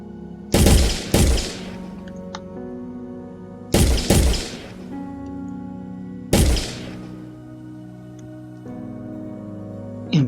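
Gunfire from a first-person shooter game built in Unreal Engine 4 comes in three pairs of sharp, loud shots, each followed by a ringing, decaying tail, with no talking.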